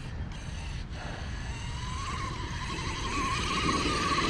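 A Losi Super Rock Rey radio-controlled truck drives past with a rising electric-motor whine and tire noise, growing louder and higher toward the end, with no talk.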